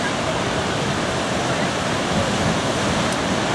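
Surf at Holywell Bay beach near Newquay, a steady broadband wash of breaking waves rushing continuously, loud and close, with no distinct pauses between sets.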